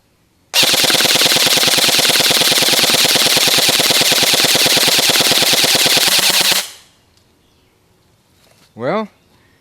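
Umarex AER 16 air gun firing full auto, a loud continuous rapid burst of shots lasting about six seconds before cutting off, followed by a brief faint sound afterward.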